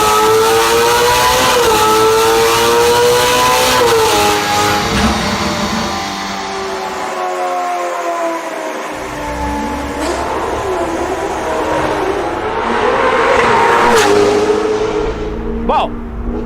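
A Ferrari F8 Spider's engine revs hard, its exhaust roaring close and loud with rising and falling pitch sweeps across the whole stretch and a brief dip midway.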